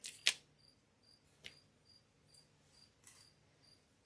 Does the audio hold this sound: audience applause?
no